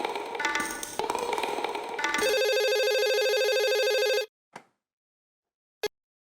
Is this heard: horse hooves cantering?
no